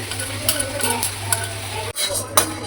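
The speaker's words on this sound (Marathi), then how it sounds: "नंतर मिरच्या भाजून घ्यायच्या आहेत" Green chilies roasting in a pan, a soft sizzle broken by a few sharp spatula clinks and scrapes as they are stirred, close and fairly quiet.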